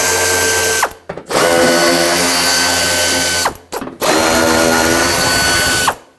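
A power tool whirs in long sustained runs, stopping briefly twice, as 10mm screws are backed out of the fender liner on a 1995-2004 Toyota Tacoma; loud and close with no talk.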